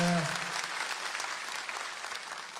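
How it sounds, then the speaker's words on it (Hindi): A crowd breaks into sustained applause welcoming a chief minister, many hands clapping steadily after a brief word from a voice at the start. "एक बार सब लोग मुख्यमंत्री जी के लिए ताली बजा के स्वागत करिए।"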